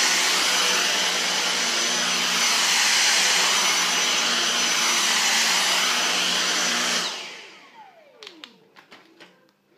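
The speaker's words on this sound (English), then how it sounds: "Now we'll try with the Dyson." A Dyson DC59 Digital Slim cordless vacuum cleaner runs with a loud, steady high whine for about seven seconds, then spins down and falls silent, followed by a few soft handling clicks.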